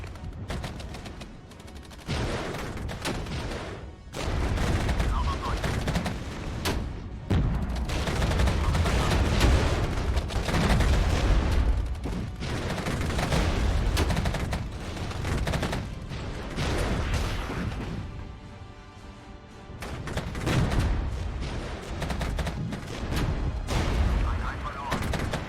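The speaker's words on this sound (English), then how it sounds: "my Leopard 2A4 is taking side shots." Tank battle gunfire in the Regiments war game rolls on continuously, with dense volleys of cannon and machine-gun fire, booms and thuds piling up in a loud, chaotic wall of combat noise.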